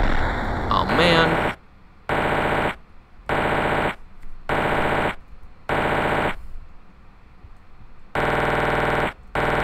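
Loud rapid-fire bursts of bullets in a chaotic shooter video game, roughly seven sharp volleys separated by short silences, with a noisy jumble of game sounds at the start.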